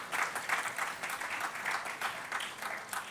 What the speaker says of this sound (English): Once more, a big applause for her